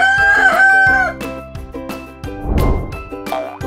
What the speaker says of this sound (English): Rooster. Roosters love to celebrate the sunrise.